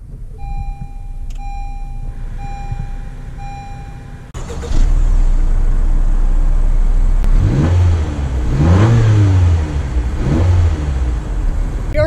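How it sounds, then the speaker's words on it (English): Turbocharged engine of a 2019 Honda CR-V heard from inside the cabin. A chime beeps at first, then the low engine drone swells as the SUV pulls away and accelerates, with road rumble beneath and a few faint shifts in pitch. "let's just get right into the drive portion to see how the new CRV drives."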